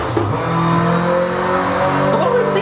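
1997 Honda Civic Type R engine revving, a loud buzzing motor note that climbs and holds with shifting pitch, close and continuous throughout.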